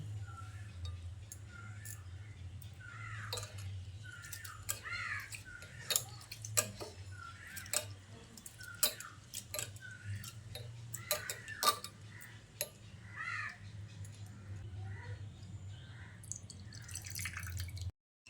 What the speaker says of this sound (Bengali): তারপর সাবুদানাটাকে বেশ কয়েকবার জল বদলে বদলে ধুয়ে নিতে হবে